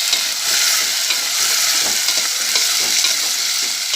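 Tomatoes, onion and green chillies sizzle and crackle loudly in hot oil, a close, continuous frying hiss with a light scrape of stirring and no voices.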